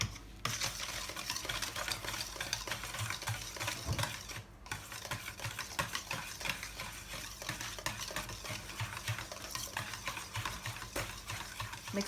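Tangzhong being stirred into bread dough for a Hokkaido milk loaf, a steady run of close, busy mixing and scraping noises continuing for the whole stretch, with no talking.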